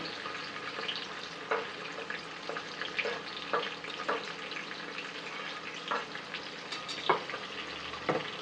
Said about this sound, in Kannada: ಕಟ್ ಮಾಡ್ಕೊಂಡಿರೋಂತಹ ಈರುಳ್ಳಿನ ಹಾಕೋಬೇಕು